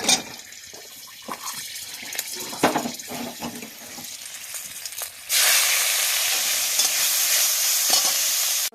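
Leafy greens in a Bengali home kitchen pan give light scraping stirs and soft crackles, then a loud, steady hiss of frying bursts up and holds through the rest.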